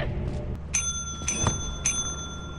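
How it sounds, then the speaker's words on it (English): In the Lethal Company video game, a bell rings three times in quick succession, bright metallic dings standing out over a steady low rumble of game ambience. "place everything on there and then ring the bell"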